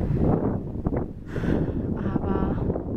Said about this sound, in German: Es ist doch ganz schön windig.